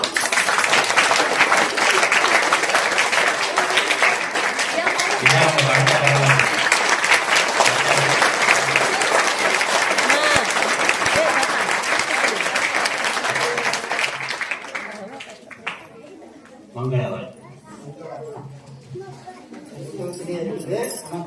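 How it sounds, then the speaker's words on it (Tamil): A crowd at the closing ceremony of a student camp claps loudly and densely for about fifteen seconds, then fades, leaving scattered quieter sounds and faint voices. "நல்ல பலத்த கரகோஷம் எழுப்புவோம்"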